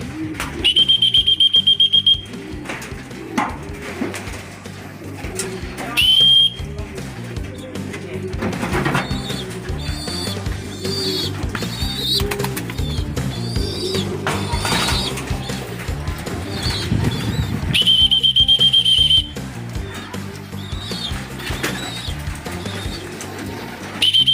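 Short, sharp high human whistles calling pigeons come at intervals over a busy background of pigeons cooing and fluttering nearby.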